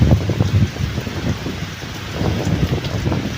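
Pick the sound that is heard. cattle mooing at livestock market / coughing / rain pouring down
rain pouring down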